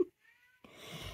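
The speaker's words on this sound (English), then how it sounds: "my cat's trying to get in the room. That's what you're probably hearing in the background." A house cat meowing from behind a door while trying to get into a room, one short muffled meow followed by faint rustling, distant and quiet.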